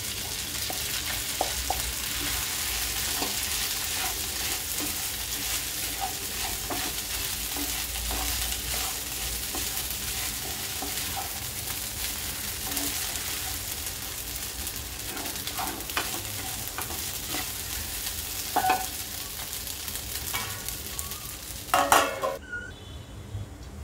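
Sabudana khichdi sizzles in a pan while a ladle stirs it, with soft scraping and steady frying hiss throughout and a brief burst of utensil clatter against the pan's rim near the end.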